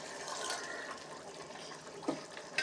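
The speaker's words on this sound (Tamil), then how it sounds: "தேவையான தண்ணி ஊற்றி பட்டாணியை போட்டுருங்க" Water pours steadily into a pot of cooking green peas for kurma with a soft, continuous splashing rush, fairly faint, with a couple of small clinks near the end.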